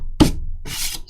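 Short abrasive rubbing as paint is sanded off a stencilled Ikea crate, one firm rasping pass followed by a softer, hissier stroke, close and alone.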